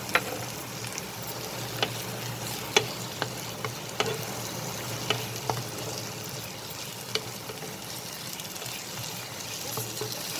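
Ginger garlic paste frying with onion in a pan, giving a soft steady sizzle with occasional clicks and scrapes as it is stirred, fairly quiet and close.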